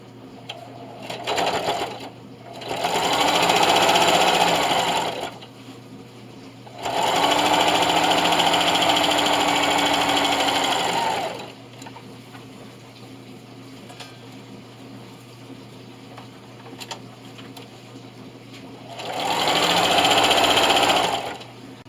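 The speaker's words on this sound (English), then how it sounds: "So now just sew down like you did with the pockets." A sewing machine stitches through a thick quilted double-mitt hotpad in three long, loud, steady runs, with quiet pauses between them and no talking.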